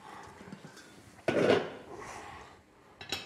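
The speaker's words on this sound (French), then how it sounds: "je prends une poêle." A frying pan lifted and set down on a kitchen stovetop, a single clear metallic clunk with a brief rattle, then another lighter knock a moment later, in an otherwise quiet room.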